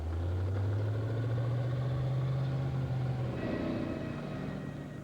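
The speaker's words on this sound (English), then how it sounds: "The engine sounds a treat" A heavy Stalwart military truck engine runs loudly close by, its low drone rising slightly in pitch before settling into a rougher rumble.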